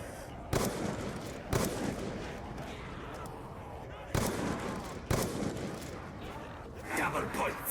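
Bursts of gunfire from the Black Ops 2 Nuketown Zombies game, several sharp loud shots at irregular intervals over a constant background of game noise.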